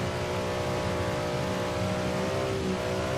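A Ram Runner trophy truck in Forza Horizon 3, rear-wheel drive, runs along a beach with its engine droning loud and steady, the pitch climbing slightly as it accelerates, with no talk.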